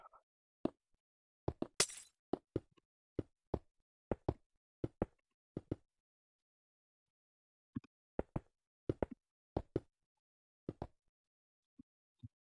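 Glass blocks being placed in Minecraft, a series of crisp, isolated knocking taps in irregular clusters, with a brief bright glassy clink early on and gaps of silence between.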